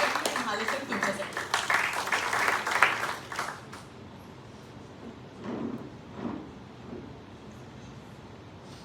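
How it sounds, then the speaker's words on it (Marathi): Audience applause at an event honoring a 26/11 attack investigator, clapping that swells loudly over the opening seconds, then fades into scattered claps and light room noise. "पुन्हा एकदा हा टाळ्यांचा गजर पटवर्धन सर तुमच्यासाठी"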